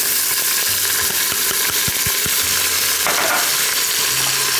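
Half an onion drops into crisped bacon in an Instant Pot and fries with a loud, continuous sizzle, punctuated by sharp clicks and scrapes of stirring.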